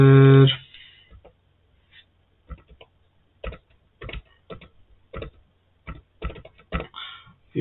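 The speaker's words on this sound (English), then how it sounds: "I will just type a random address" A computer keyboard taps out an address in irregular bursts of crisp, close key clicks, scattered singles and quick clusters with short pauses between, after a brief tone at the start.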